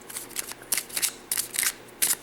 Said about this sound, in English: shuffle the decks, put everything together